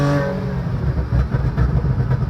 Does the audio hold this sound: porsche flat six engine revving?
yes